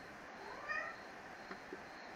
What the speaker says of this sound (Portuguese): Chegou a dona Laia aqui, miando. Pedindo comida, obviamente